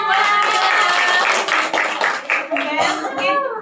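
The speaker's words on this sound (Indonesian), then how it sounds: "boleh tepuk tangan buat" Children and adults clap together in a small indoor group, a dense burst of close hand claps that fades unevenly, with a voice mixed in.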